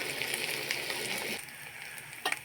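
Chopped onion frying in hot oil in a pan while it is browned for an egg curry, a steady close sizzle that eases off about halfway, then a brief clatter near the end.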